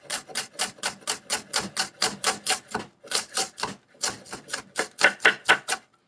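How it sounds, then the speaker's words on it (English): A knife chops through folded collard greens and bok choy on a cutting board in steady, rapid strokes, about three per second, each a crisp close thud, with a brief pause midway before the chopping resumes. "just cut everything together."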